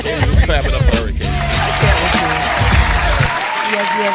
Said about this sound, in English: let's clap it up for Hurricane